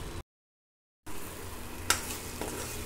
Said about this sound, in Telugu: మనం పోసిన ఆయిల్ పైకి రావాలమ్మా, అంతవరకు కొంచెం తిప్పుకుంటూ ఉందాము